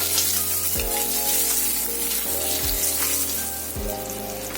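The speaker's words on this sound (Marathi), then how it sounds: "आता आपण त्याला चांगलं परतून घेऊया, व्यवस्थित मसाला सगळीकडे लागेपर्यंत" Eggs sautéing in a pan of spice masala with garam masala and turmeric give a steady, close sizzle and crackle that runs the whole time, with low background music beneath it.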